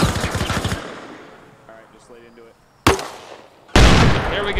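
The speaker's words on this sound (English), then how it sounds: "Hold on, I'm gonna shoot another one up there." Automatic weapon gunfire in the military shooter ARMA Reforger: a rapid, loud burst at the start, then a quieter stretch with faint distant sounds, followed by a single sharp shot and a final sustained burst of fire.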